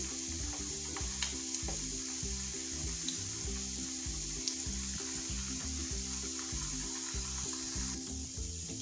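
Vegetable kofta balls fry gently in oil over a low flame, giving a steady, close sizzle that runs unbroken throughout, with a low rhythmic murmur beneath and an occasional faint click.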